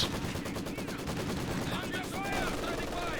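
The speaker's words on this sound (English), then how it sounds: "Still does have triple machine guns." Dense machine gun fire from a Company of Heroes 2 battle, rapid overlapping bursts and crackling shots filling the mix at close range, with whizzing ricochet-like tones layered over the steady clatter.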